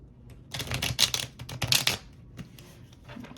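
Crisp, rapid riffling of a tarot card deck being shuffled close by, several quick bursts with brief pauses between, no talking.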